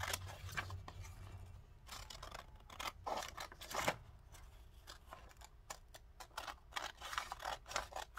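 Scissors snip out paper index card pieces at close range, a faint series of crisp cuts and paper rustles coming in irregular bursts, with no one speaking.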